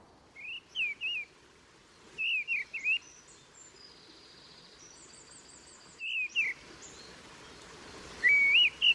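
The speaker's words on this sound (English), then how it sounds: "rather jangly song of the mistle thrush" A mistle thrush sings short, jangly whistled phrases in bursts with pauses between, about 30 to 40 yards away beside a farm track, over faint background hiss.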